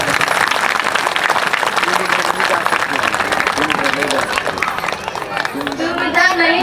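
An audience claps at a Shrimad Bhagavat Mahapuran katha and Vishnu yajna in Karji village in 2024, a steady clatter of many hands blended with voices and crowd chatter.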